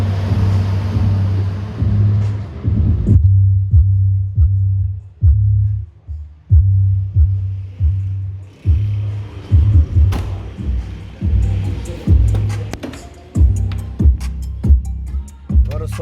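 Music with deep, heavy bass thumps pumped through an Ophera subwoofer box driven by an OP1200.1 amplifier, a loud rhythmic low-end beat playing steadily throughout with no talk.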